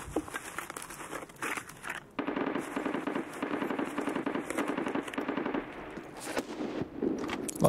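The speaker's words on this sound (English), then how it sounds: "Lots of gunfire." Rapid bursts of automatic gunfire echo through a video game raid, overlapping volleys crackling in uneven clusters at a moderate distance, continuous for several seconds with brief gaps between strings of shots.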